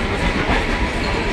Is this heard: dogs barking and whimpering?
no